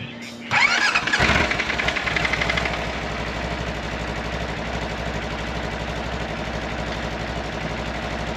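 A straight-piped Polaris RZR 1000 UTV engine cranks and catches with a loud burst, then settles into a steady, rumbling idle that continues evenly to the end.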